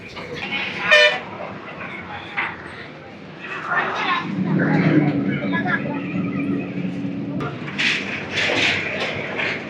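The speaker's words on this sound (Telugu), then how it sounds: "ఒక రైల్వే క్రాసింగ్" A train rolls past a railway crossing on a rural road, a rumbling wagon clatter with a short horn toot, heard at moderate distance beneath nearby voices talking over it.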